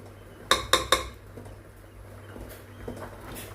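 Three sharp metallic clinks of a spoon against a pot while ground mint is stirred into prawn biryani, quick and close together, followed by soft scraping and faint patter at a low level.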